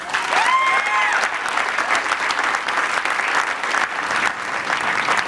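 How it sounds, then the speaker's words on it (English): A crowd at an election-night event cheering a California ballot initiative passing, with sustained, dense applause and a brief whistle near the start. "that's Arnold Schwarzenegger, the governor of California, applauding the passage of a California ballot initiative"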